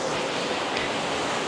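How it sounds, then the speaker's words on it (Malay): A waterfall in Saudi Arabia, a steady, loud rushing roar of falling water filling the whole moment without pause. "kita ada air terjun di Arab Saudi"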